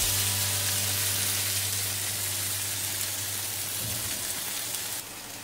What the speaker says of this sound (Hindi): पलट कर भी हम हल्का ब्राउन होने तक सेकेंगे